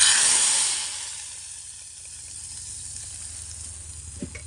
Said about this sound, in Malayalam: കടുക് താളിച്ചിട്ടുണ്ട്, അത് കറിയിലേക്ക് ഒഴിച്ച് കൊടുക്കുന്നുണ്ട്.